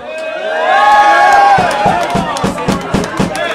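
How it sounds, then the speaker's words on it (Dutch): An audience cheers loudly for young men at an award event, a swelling roar of voices followed by a rhythmic series of sharp claps or stomps, close and lively. "En een dik applaus nogmaals voor de jongmans"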